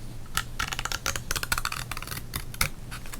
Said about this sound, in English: I'll admit this was kind of an easier card to cut up than I thought